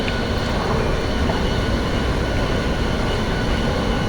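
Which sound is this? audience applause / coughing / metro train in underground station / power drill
metro train in underground station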